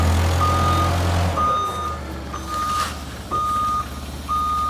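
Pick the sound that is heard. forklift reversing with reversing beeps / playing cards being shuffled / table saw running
forklift reversing with reversing beeps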